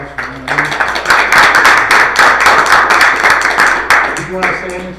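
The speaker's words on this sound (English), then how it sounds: "a little round of applause for Maureen" A small round of applause for a retiring council member at a Glens Falls Common Council meeting, close, distinct hand claps from a handful of people, steady for about four seconds, with voices murmuring at the start and end.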